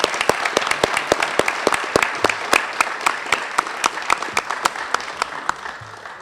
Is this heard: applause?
yes